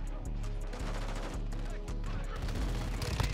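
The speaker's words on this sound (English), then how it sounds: "That's a shotgun." Shotgun blasts in Call of Duty Modern Warfare II, repeated sharp booming shots spaced through a busy mix of game noise and music, with a louder crack near the end.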